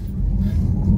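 Tesla Model 3 Performance electric car launching from 0 to 60, a loud, steady low rumble of road and motor noise heard from inside the cabin, swelling slightly as it pulls away.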